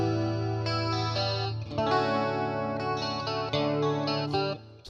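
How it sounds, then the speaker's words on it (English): Electric guitar played through a Boss Katana amp with a shimmering chorus effect, sustained chords and ringing notes swelling and overlapping, loud and clean with no talking. "Oh, some pretty chorus."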